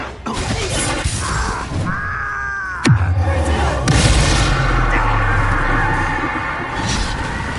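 A Confringo fire spell blast from Hogwarts Legacy, a sharp explosive burst near the three-second mark followed by a booming, rumbling tail, set within loud ongoing game combat noise and music.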